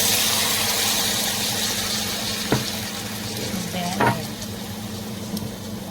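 Chicken frying in a pan with browned garlic for Filipino adobo, a steady soft sizzle throughout with a couple of brief clinks of a utensil against the pan.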